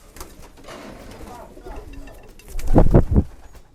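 An Emil Materne pigeon from old bloodlines gives a few deep, close cooing notes in a quick pulsing group, rising loud after softer rustling and low sounds.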